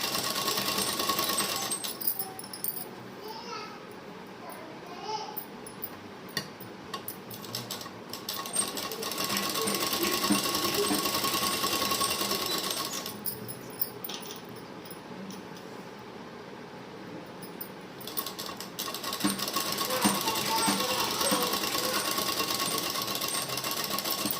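A sewing machine stitches pants with pockets in steady, rapid bursts, running for several seconds at a time with short pauses between runs, close and fairly loud.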